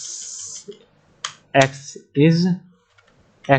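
Typing on a computer keyboard while writing Python code, with a few separate clusters of close key clicks and someone speaking between them.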